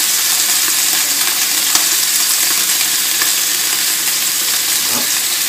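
Beef roast searing in a hot pan with thyme sprigs and garlic, a loud, close, continuous hissing sizzle with a few faint clicks of the pan.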